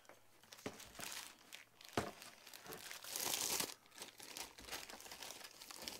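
A black plastic bag is handled and crinkled up close in a quiet room, with irregular rustling and crackling bursts, some sharper crunches, and brief pauses between handfuls.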